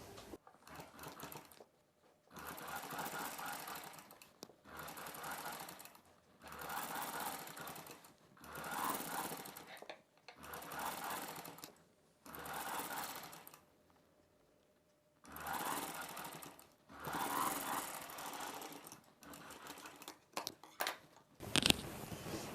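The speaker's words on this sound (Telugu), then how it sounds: "ఈ బక్రం పీస్ని మాత్రమే పైకి తీసుకొని ఈ థ్రెడ్ పైపింగ్కి పక్కనే ఒక కుట్టు వేసుకోవాలి" Sewing machine stitching a buckram piece alongside thread piping on a boat-neck dress, running in about eight steady whirring bursts of a few seconds each, separated by short quiet pauses, close and clear.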